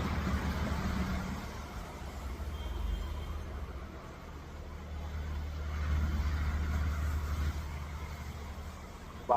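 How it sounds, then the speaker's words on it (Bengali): Heavy traffic crawls through a jam on the rain-soaked Gazipur bypass road toward Chowrasta, a steady low rumble of idling and slow-moving vehicles blended with rain hiss, continuous and fairly close with no talk. "তো প্রচন্ড জ্যাম"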